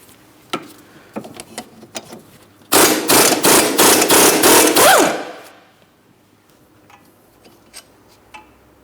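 On a 2003-2007 Cadillac CTS, a loud rapid hammering burst from an impact wrench works the 18mm wheel bearing mounting bolts at the front steering knuckle for about three seconds. Scattered metallic clicks and taps come before and after it.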